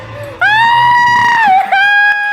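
Megan lets out a long, loud, high-pitched scream close by, sustained for about two seconds with a brief break and wavering pitch before it carries on.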